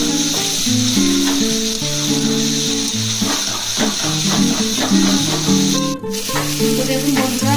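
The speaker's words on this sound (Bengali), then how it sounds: "আলুটা আমার খুব ভালোভাবে কষানো হয়ে গেছে" Potatoes sautéing in a pan for a Bengali vegetable curry give a steady, close sizzle and hiss throughout, partly under continuous background music.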